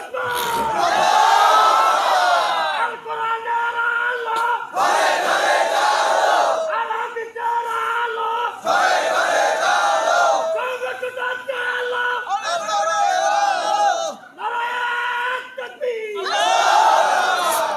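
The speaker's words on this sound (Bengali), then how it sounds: "দেখি একজন দাঁড়িয়ে তাকবীর দেন তো দেখি।" A crowd at a Bengali religious gathering (mahfil) roars the takbir chant in loud, repeated bursts. Each surge of many voices is separated by brief lulls in a steady call-and-response rhythm.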